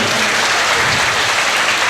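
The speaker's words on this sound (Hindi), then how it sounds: "हमें पता था जी आप लोग मक्खनबाजी पर ताली बजाते हैं।" An audience at a Hindi kavi sammelan poetry gathering claps in a dense, steady burst of applause, loud and close, for about two seconds.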